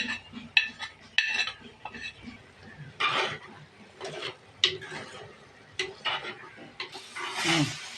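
Soybeans fry in oil in a pan with coriander powder and are stirred with a metal spoon. Irregular clinks and scrapes of the spoon against the pan come close up over only a faint sizzle.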